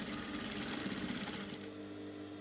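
A sewing machine stitches a stretchy-fabric jumpsuit seam at a half-inch allowance, a dense steady whirring run that fades off after about a second and a half, leaving a low hum.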